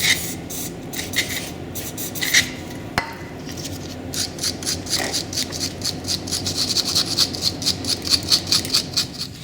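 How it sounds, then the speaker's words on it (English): Old brake caliper scrubbed with a wire brush and brake cleaner: close, fast scratchy rasping strokes that grow steadier and more rhythmic, with a brief sharp knock early on, no talking. "giving them a good clean off with the wire brush and the brake cleaner"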